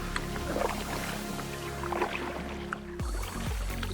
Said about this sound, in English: I'm out doing a little paddle on Pocklington Canal